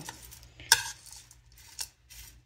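A sweet pea chaat salad is tossed with mustard oil in a bowl, giving soft scraping and stirring sounds with a couple of sharp utensil clinks against the dish, close up and quiet, with no talking.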